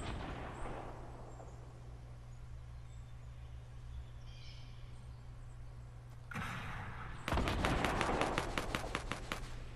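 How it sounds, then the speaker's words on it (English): Gunfire in a video game, with steady shots and explosions against a constant background hum, then a sudden loud burst of rapid automatic fire near the end, and no talking. "they're just shooting bushes"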